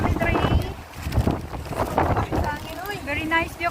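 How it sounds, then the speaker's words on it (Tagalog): Strong seaside wind at a marina buffets the microphone in gusty, rumbling bursts while people talk and laugh nearby throughout. "Grabing hangin diri guys."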